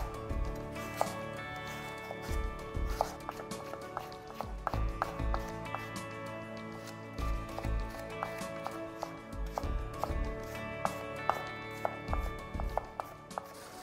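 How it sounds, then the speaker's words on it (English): Heirloom purple carrot being cut into thin matchsticks with a knife on a board, a series of crisp, quiet taps in uneven bursts of quick strokes with brief pauses, over soft background music. "Chop about 30 grams of carrot into thin matchsticks."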